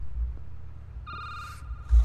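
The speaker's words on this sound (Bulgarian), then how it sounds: "Телефона звъни." A telephone rings in the horror video game Security Booth, a short electronic tone burst standing out over a low rumbling background, with a second ring starting just after.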